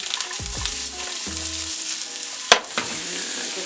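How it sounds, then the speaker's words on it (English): Onions frying in oil in a pan, a steady bright sizzle that carries throughout, with a sharp clatter partway through and faint background notes underneath, no talking. "A drizz of oil, and we're going to start with our onions."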